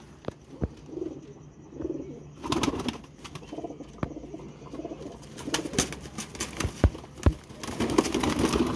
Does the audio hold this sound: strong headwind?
no